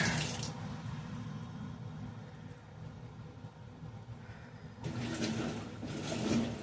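A faulty Whirlpool top-load washing machine fills with water, a low steady rushing hiss that swells louder near the end, fairly faint and with no talk.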